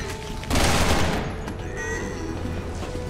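Gunfire in the survival horror game Resident Evil 6, a loud rattling burst of shots that erupts sharply and then settles into a sustained noisy rumble, close and dominant throughout.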